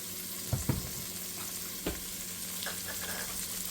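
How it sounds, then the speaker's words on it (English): Green beans with smoked turkey and potatoes, seasoned with onion powder and Lawry's seasoned pepper, get stirred in a pot, with a few distinct scraping knocks over a steady low sizzle and no talking. "And we'll give that a stir"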